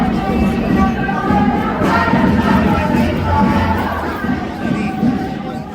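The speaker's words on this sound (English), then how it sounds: "a loud and chaotic crowd can suddenly be heard. It's a protest march passing by." A loud, chaotic crowd of a protest march passes close by in front of a mounted royal guard, a dense continuous roar of many shouting and chattering voices that holds steady for several seconds before easing slightly.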